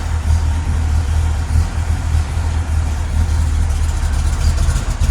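A 1966 Corvette V8 idles just after a cold start, a deep, steady, slightly lumpy rumble heard up close and alone throughout.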